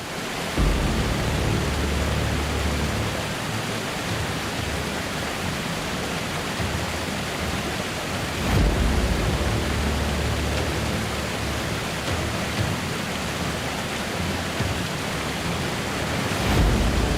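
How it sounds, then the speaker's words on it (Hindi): A waterfall on the path to Shri Ram Durg fort roars as a dense, continuous rush of falling water, loud and close, steady throughout with no voices. "किले के रास्ते में ये एक ऐसा वाटरफॉल है जो किसी का भी दिल जीत सकता है"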